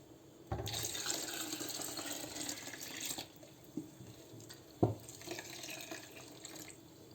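Water poured into a pot of tırşık soup, a Turkish soup with beets from Osmaniye, as a steady pour with splashes, a brief pause, a sharp clink, and then more pouring.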